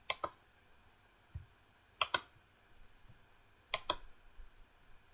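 Computer mouse clicks in a quiet room, several sharp close double clicks in pairs spaced about two seconds apart, with faint small taps between them.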